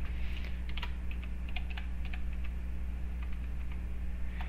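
Fingers tap out a password on a computer keyboard connected to a Raspberry Pi, a quick run of light, close key clicks over a steady low electrical hum.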